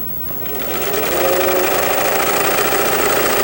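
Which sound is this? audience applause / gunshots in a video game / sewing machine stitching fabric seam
sewing machine stitching fabric seam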